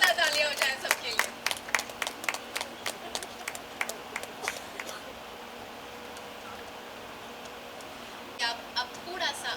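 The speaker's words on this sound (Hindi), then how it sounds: "एक बार जोरदार तालियां हो जाए सबके लिए।" Scattered audience applause at a stage event: a handful of sharp, separate claps for several seconds that thin out, then a few more near the end, with someone speaking over it.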